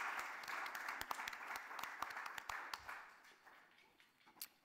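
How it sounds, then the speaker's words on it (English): A panel audience at a defense and diplomacy forum applauds their panelists with steady, fairly faint clapping that thins out and fades toward the end, with a few scattered last claps. "please give a round of applause to our panelists and thank them for their lessons and their time"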